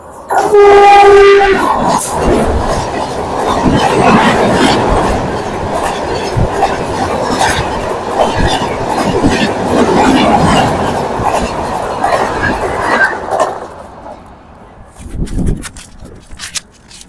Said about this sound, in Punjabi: ਵੱਖ-ਵੱਖ ਸਮੇਂ ਤੇ ਵੱਖ-ਵੱਖ ਟ੍ਰੇਨਾਂ ਇੱਥੋਂ ਗੁਜ਼ਰਦੀਆਂ ਨੇ